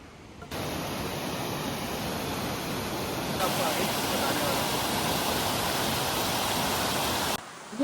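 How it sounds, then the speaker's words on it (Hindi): A waterfall on the Valley of Flowers trek in Uttarakhand sends up a broad, steady roar of rushing water, loud and continuous. The sound grows slightly stronger partway through before cutting off at the end. "और एक झरना भी आ रहा है"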